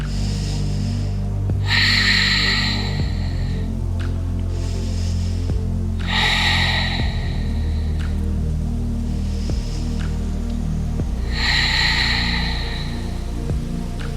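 Slow, deep breaths during a yoga child's pose, about three long audible inhale and exhale cycles spaced evenly over a constant low background hum.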